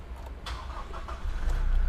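A Toyota Revo 2.8 pickup truck engine cranks and catches, a burst of starter noise followed by a deep, rumbling idle that grows louder and steadier near the end.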